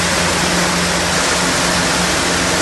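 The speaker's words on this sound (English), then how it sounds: "we've ended up getting a free boat ride along the great river" A boat ride along the Tigris River in Baghdad gives off a steady, loud, unbroken roar of rushing water, wind and engine that holds evenly throughout.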